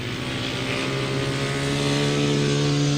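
Grasstrack racing motorcycle passing close, a loud steady engine note with strong harmonic buzz that holds and rises slightly, running alone without talk.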